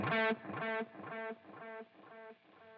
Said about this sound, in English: That is going to give us our nice solid quarter note repeat.